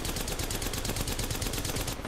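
Rapid automatic gunfire in the battle royale game Apex Legends, a steady fast stream of shots that fills the moment at close range and cuts off abruptly near the end.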